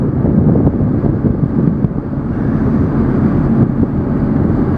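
Strong wind roars across the microphone outdoors, a continuous loud low rumble with gusty fluctuations and no speech.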